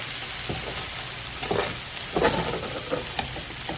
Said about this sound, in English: So go down and turn. Go down and turn. Just folding your rice.